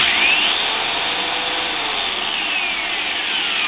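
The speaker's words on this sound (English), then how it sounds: "the lathe is running pretty centered, especially for this being wobbly" A homemade wood lathe driven by a large 6-amp hand drill runs with a steady, loud whirring hum and a faint wobble in pitch, with no talk over it.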